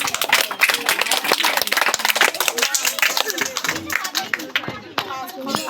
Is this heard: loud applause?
yes